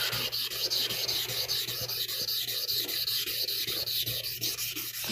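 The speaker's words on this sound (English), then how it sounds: "this 320 grit sandpaper that I'm using" Sharpening stones are rubbed flat and clean on 320 grit sandpaper, a continuous close gritty scraping in back-and-forth strokes with no voices.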